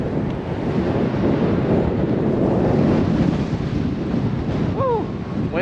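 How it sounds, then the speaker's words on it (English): Strong wind buffets the microphone in a steady roar during a bike commute, with a hint of surf or water beneath and a brief high squeal near the end. "Windy, windy, windy."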